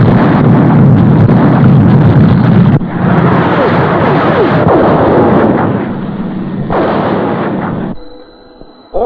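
Field artillery guns fire a single round, heavy booming blasts with rumbling decay, several loud reports in sequence followed by a sharp cutoff into quieter radio-like noise.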